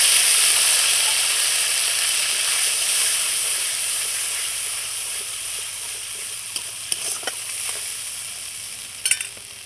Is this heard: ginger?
yes